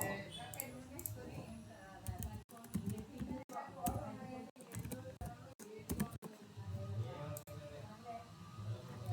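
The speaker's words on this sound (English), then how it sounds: "So if you type something like this" Quick bursts of keystrokes on a computer keyboard click and tap in short runs, fairly close, while someone talks over them almost throughout.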